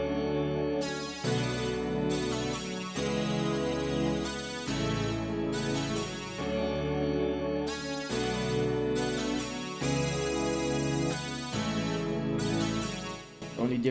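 Bright, hard digital polysynth chords drive a song arrangement, loud and sustained with repeating bar-length phrases over a steady bass and beat, no voice on top.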